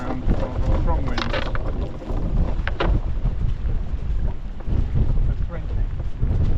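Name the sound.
strong wind in a squall while anchoring a boat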